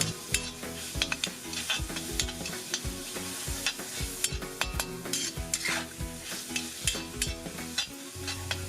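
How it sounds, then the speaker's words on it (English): Chicken sizzles as it is stir-fried in a hot pan while a utensil scrapes and stirs in steady, repeated strokes, close by and continuous. "I stir fry the chicken for about 30 seconds"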